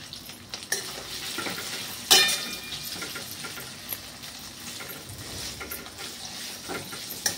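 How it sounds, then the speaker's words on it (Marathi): Potatoes fry and crackle in hot country ghee, a steady close sizzle with a sharp clatter of stirring near the two-second mark and lighter scrapes throughout. "प्रथम आपल्याला बटाटे छानपैकी परतून घ्यायचे आहे."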